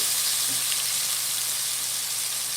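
Pork chops sear in a hot pan, producing a steady, dense sizzle that holds evenly throughout, close up and with no talk.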